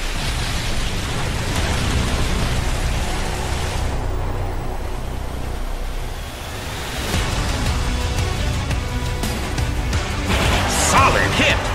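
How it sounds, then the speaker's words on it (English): Steady heavy rain in the Colosseum stage of the video game Pokémon Battle Revolution hisses throughout, a dense wash of noise that dips briefly midway and swells again near the end, with faint voices underneath. "It's pouring rain in the Colosseum."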